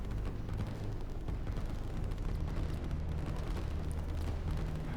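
Artillery fire in the strategy game Line War, heard as a steady low rumbling barrage of distant booms blending into a continuous dull roar without clear individual hits.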